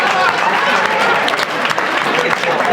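A crowd at an NAACP event applauds enthusiastically, loud dense clapping throughout with crowd voices mixed in, steady and close.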